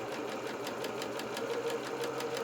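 A sewing machine stitches a dart on doll trousers, its needle thumping in a fast, even rhythm over a low motor hum, close and steady with no talk.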